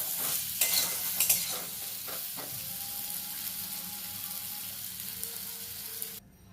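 Chana dal fritters fry in hot oil with a steady close sizzle, while a few sharp scraping and stirring clatters in the first seconds break over the bubbling.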